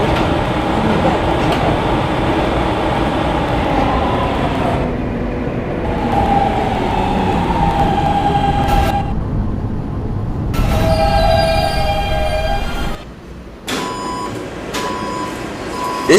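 A K subway train standing at a station, a loud rumbling interior drone with intermittent beeping tones and shifts in engine noise, ending in a brief drop and resumed hum.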